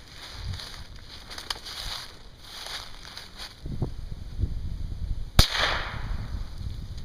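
Single sharp rifle shot during outdoor target practice, one loud crack midway through a quiet stretch of wind and faint rustling, with a brief ringing tail.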